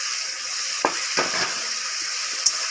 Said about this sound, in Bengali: আলুটা দিয়ে আর একটু কষাবো।